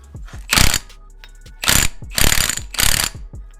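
A ratchet wrench turns a 36mm hub bolt on a 1994 Jeep YJ, making several close, loud bursts of rapid ratcheting clicks separated by short pauses, with no speech.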